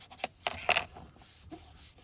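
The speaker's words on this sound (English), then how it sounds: "Press it down, turn it over, give it a little rub-a-dub-dub" A hand rubs paper firmly onto a card base while making a gate-fold greeting card. A few short, close, dry rubbing and scuffing strokes come in uneven bursts, with no talking.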